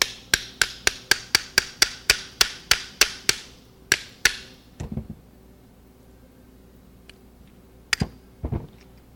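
A hammer drives a kingpin bolt to knock out the spindle bearings, giving about a dozen sharp, evenly spaced metallic strikes close by, then a pause and a few scattered clanks and taps.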